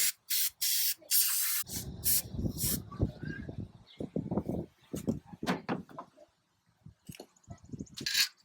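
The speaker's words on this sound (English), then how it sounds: "Clean the surface of the thermostat housing. I'll use the cleaner as well." Cleaner sprayed onto a Dodge Ram thermostat housing: several sharp, close hissing bursts at the start, followed by quieter clattering and handling sounds with brief pauses.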